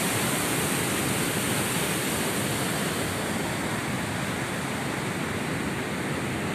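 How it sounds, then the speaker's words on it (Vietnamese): Water rushes steadily over the Đá Lòng dam on the Ly River. The roar is loud, constant and broadband, with no pauses or voices. "Đây là cái đập đá lòng á."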